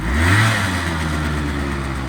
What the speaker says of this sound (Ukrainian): Трішечки-трішечки чутно наш поршеньок, хто знає про що я, але взагалі зовсім зовсім трішечки